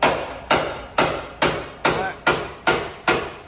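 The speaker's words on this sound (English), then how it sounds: "hit it with a hammer just lightly everywhere" A hammer taps lightly on a bent Cummins truck frame in the shop, eight evenly spaced metallic knocks about half a second apart, each ringing briefly before the next.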